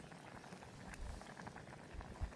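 Ambarella fruit boiling in water in a pot, giving a faint, continuous bubbling and simmering with occasional soft pops.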